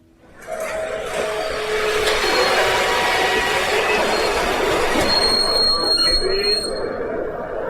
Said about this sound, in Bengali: ট্রেন এলো 10 মিনিট লেটে।